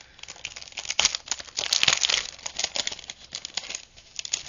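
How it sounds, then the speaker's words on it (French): Paper wrappers crinkling and rustling up close in bursts of handling noise, with brief pauses between the louder crunches. "désolé hein, pour le bruit, pour le bruit des papiers"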